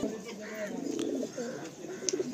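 A male Madrasi pigeon coos in a loft in Kolkata, giving a few soft, low, throaty calls close by over a steady background hum, with a brief faint chirp near the end.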